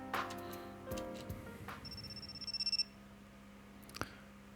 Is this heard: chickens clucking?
no